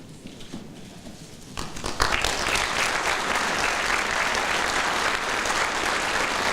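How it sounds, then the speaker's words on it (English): An audience at a retirement ceremony at White Sands Missile Range breaks into applause after a quiet start. The clapping swells quickly and holds as a steady, full round of claps from many hands. "Let's give Mr. Martinez and his family one more round of applause, people."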